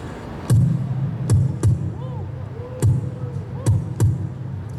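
Beatboxed kick drum imitation: a voice mimics a heavy, dull bass drum with six low thumps in loose pairs, close and punchy, over a faint background hum.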